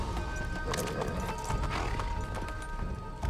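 A horse in the video game Assassin's Creed III, with hooves pounding and a neigh amid dense battle noise, steady clatter and scattered hits, all moderately loud and fairly close.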